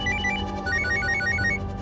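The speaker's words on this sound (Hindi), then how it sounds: "लो, डॉक्टर का ही फोन आ गया।" A telephone rings with an incoming call from a doctor in an indoor domestic drama scene, a steady repeating electronic ringtone pattern heard clearly and alone.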